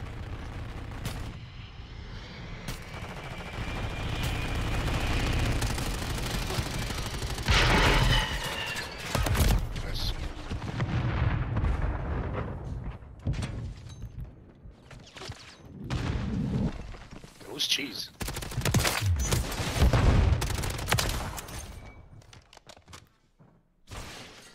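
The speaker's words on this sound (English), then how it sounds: "I'm gonna shoot at that fucking Vito, bro." Gunfire in a shooter video game, with repeated loud bursts of rapid shots and heavy booming impacts rolling on and off over a long stretch, close and intense.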